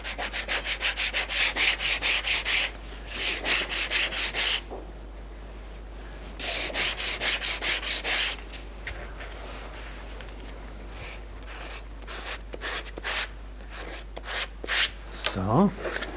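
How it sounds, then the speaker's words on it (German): Coarse sandpaper rasps back and forth against the edge of a leather belt in steady bursts of rubbing strokes, close and fairly loud, with brief pauses between passes. "Nehme ich ein grobes Schleifpapier vorne weg."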